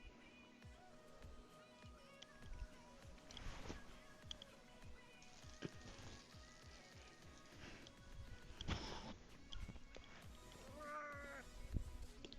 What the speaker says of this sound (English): Why you meow at me?